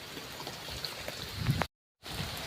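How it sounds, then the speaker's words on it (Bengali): Steady patter of rain falling nearby, with scattered drops striking close on the recording phone, broken by a brief dropout near the end. "বৃষ্টি পড়তেছে আমার ফোনেও বৃষ্টি পড়তেছে"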